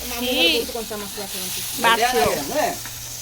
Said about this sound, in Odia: ତେଲ ପକାଇଦେଲା, ଫୁଟଣ ପକାଇଦେଲା, ଡାଇରେକ୍ଟ ମାଛଟା ଏଇଠି ପକେଇଥାନ୍ତୁ